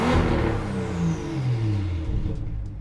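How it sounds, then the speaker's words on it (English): Tuned BMW 535i engine revving, up to about 500 horsepower: a close, loud rev that climbs and falls as the engine pulls, then settles back toward idle. "I'm gonna do like a few small revs, and we're gonna see if the burbles are, you know, aggressive enough"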